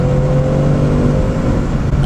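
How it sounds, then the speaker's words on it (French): A 2018 Ford Mustang Bullitt's naturally aspirated 460 hp V8 with a manual gearbox pulls hard in third gear, giving a loud, steady, close engine drone with no talk. "Oh, ce moteur atmosphérique."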